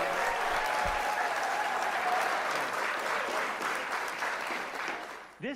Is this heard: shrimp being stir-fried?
no